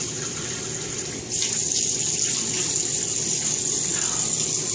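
Steady running water pours and splashes close by as skin is rinsed off under a tap, a continuous gushing hiss that grows slightly louder after a brief dip.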